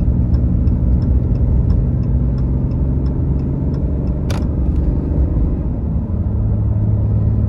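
A 2019 Ram 2500 with a 6.7 HO engine, 68RFE transmission and 35-inch tires pulling about 10,000 pounds drones steadily and loudly from inside the cab, a constant low rumble with faint rhythmic ticking throughout.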